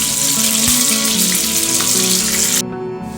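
Onions frying in hot oil for a crispy potol dish give a dense, loud hiss that holds steady with a tonal musical layer underneath, then cuts off abruptly near the end.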